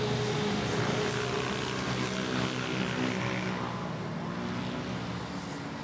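A Capital Airlines Airbus A330 airliner passes overhead near Manila Airport, giving a steady, broad jet roar that holds loud through the whole stretch and eases slightly toward the end.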